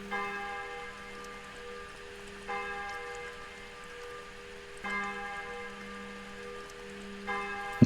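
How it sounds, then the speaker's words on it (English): Bell in the video game Devil Connection tolling four times at even intervals of roughly two and a half seconds, each strike a clear, resonant ring that hums and fades before the next, with no talking. "I don't think that's a normal bell."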